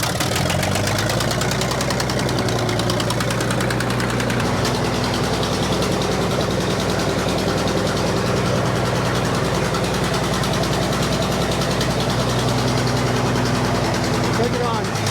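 An old Frick engine fires and settles into a loud, steady, knocking idle that runs throughout, close up and dominating the scene.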